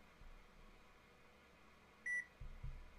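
A short electronic beep, clean and tonal, rises briefly over quiet room noise during a Gatecrash draft session, followed by a couple of low thumps.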